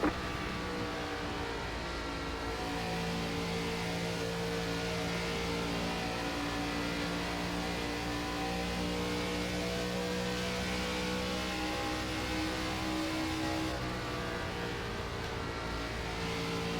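Race car engines hum and drone in iRacing's ARCA Series at Chicagoland, a steady blend of sustained mid-pitched tones from several cars at speed, fairly faint and even, with no voices over them.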